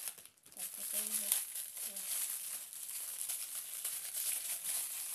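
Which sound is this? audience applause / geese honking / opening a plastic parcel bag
opening a plastic parcel bag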